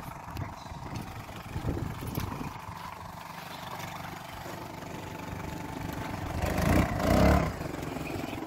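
A small motorboat's engine idles and then revs up in the harbour waters of the Isles of Scilly, a steady mid-range drone rising in a louder swell toward the end, heard from some distance.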